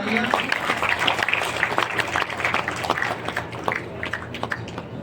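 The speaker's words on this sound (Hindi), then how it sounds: "जोरदार तालियां" Audience applause at a Chief Minister's education honour award ceremony in Bijapur district, Chhattisgarh, a steady crowd of clapping hands with distinct individual claps standing out, continuing evenly throughout.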